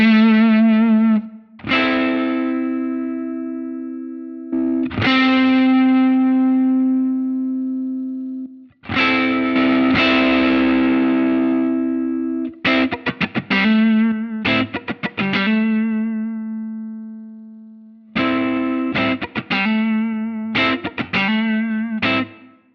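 An electric guitar runs through an Ampeg Opto Comp compressor on a Line 6 Helix, playing sustained notes and chords and then choppy, rhythmic strummed bursts, loud and up close with no talking.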